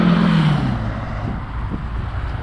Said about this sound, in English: A car with a loud muffler there.